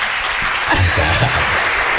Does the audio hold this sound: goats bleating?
no